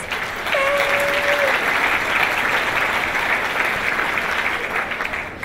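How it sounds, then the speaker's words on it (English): A large audience at a talk applauds a volunteer coming up on stage, a thick, steady roar of clapping that swells in quickly and holds, with a brief whistle or cheer near the start. "Give her a round of applause, please."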